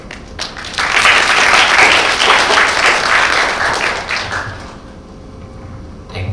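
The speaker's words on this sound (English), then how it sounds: "I want you another round of applause" A crowd applauds steadily for several seconds, loud and sustained, then the clapping thins out and fades.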